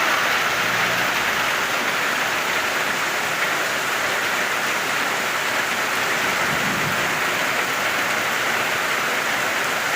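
Heavy rain pours steadily in Gouranadi, Barishal after intense heat, a dense continuous hiss with a faint low rumble of thunder partway through, loud and unbroken with no talk.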